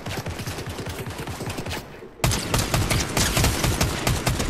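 Rifle fire in Fortnite comes as a steady, rapid volley of close shots that never stops, with a louder, denser burst in the second half.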